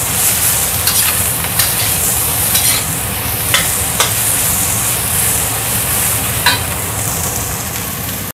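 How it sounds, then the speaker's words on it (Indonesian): Bamboo shoots are stir-fried in a pan with a loud, steady sizzle and hiss, punctuated by occasional scraping clanks of the spatula against the metal close by. "Tumis sampai wangi dulu, terus aku masukin rebungnya ya."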